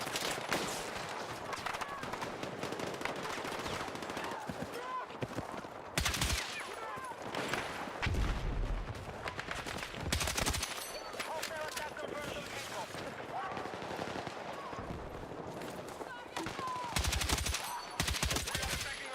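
Rapid automatic gunfire from the video game Battlefield 6 rattles on in dense bursts and sharp single shots for the whole stretch, with a player talking over the combat noise.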